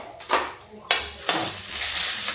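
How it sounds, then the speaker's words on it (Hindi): Cumin seeds crackle in hot oil in a pan, a close steady sizzle with a few sharper bursts of popping that swell and then hold, no talking. "अभी देखिए जीरा तड़क रहा है"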